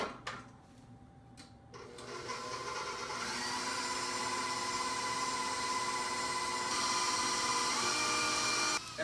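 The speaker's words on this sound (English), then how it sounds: "you're going to throw your mixer on a medium speed for about 2 minutes until the eggs and sugar are combined" An electric hand mixer runs at medium speed, beating eggs and sugar for cupcake batter, with a steady, close whirring drone that starts after a brief quiet moment and keeps going without a break.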